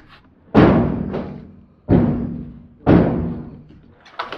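Several dull wooden thuds from a small hinged wooden door on a chicken wagon being pushed against a 2x3 frame and failing to shut, with about four knocks at irregular intervals, close and fairly loud.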